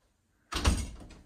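Main entrance door of a house swinging open after a brief silence, a single close wooden thud and scrape that tails off over about a second.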